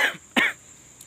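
One person coughs twice in quick succession, close and moderately loud, followed by faint background hiss.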